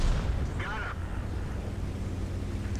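A single tank cannon shot in a World War II tank game with a Panzer IV nearby, a heavy low boom at the start that rolls into a sustained rumble, with someone talking over it.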